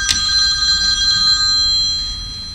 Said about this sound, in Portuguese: E meu telefone tocando o tempo todo, hein?